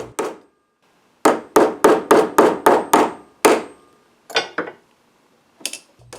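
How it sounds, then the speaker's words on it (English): Brass-plated nails are clipped short and hammered into undersized pilot holes on a sword scabbard, with a rapid run of about eight sharp, close hammer blows followed by a few spaced-out taps. "I clipped some brass-plated nails short and hammered them into the slightly undersized pilot holes."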